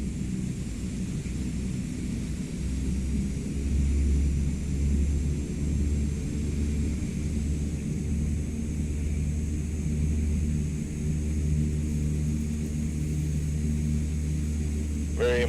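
A CL-415 firefighting water bomber drones steadily in MSFS 2024 over Brazilian wildfires, its propeller engines holding a continuous low hum and broadband rush with slight swells in level.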